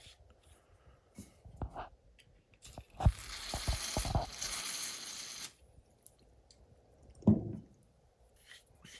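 Cleaning fluid sprayed through small RC car bearings over wood, a broadband hissing spray burst lasting about two seconds amid scattered clicks, taps and handling noises, with a sharper knock near the end.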